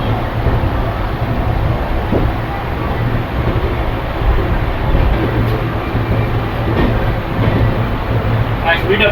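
A train picks up speed along a station platform, a loud, continuous rumble and rushing roar with rhythmic wheel clatter, steady throughout while a voice speaks over it.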